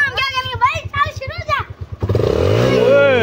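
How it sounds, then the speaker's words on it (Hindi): Someone speaks, then a motorbike engine starts up close and settles into a loud, steady running rumble with rising revs. "ये देखो भाई ने बाइक स्टार्ट कर दी है।"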